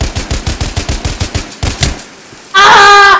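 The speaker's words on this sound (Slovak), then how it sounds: "Skúsim machine pistol." A machine pistol fires in a video game: rapid, loud, evenly spaced shots ring out close in a quick burst, then a short pause, then a bright electronic game tone.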